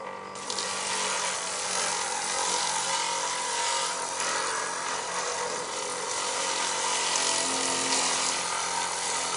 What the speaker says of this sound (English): this first stage is going to be a little bit loud. This is the actual lapidary disc.